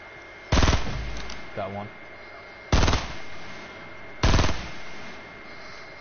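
Three sharp, loud bursts of gunfire in Fortnite, a few seconds apart, each a dense rapid volley; a player briefly speaks between the shots.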